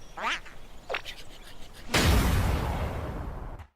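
In Super Smash Bros., the Duck Hunt final smash opens with two quick, bright duck quacks. A sudden loud blast follows, with a booming rush of noise that fades.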